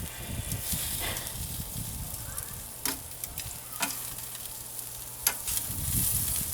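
Bacon-wrapped shrimp sizzle on a grill in a steady crackling hiss while being flipped, with a few sharp taps and clicks of the turning cutting through the frying noise.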